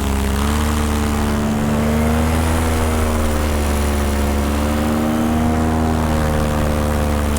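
A paramotor engine drones steadily in flight, a loud, close, continuous buzzing hum with a slightly wavering pitch and no talk over it.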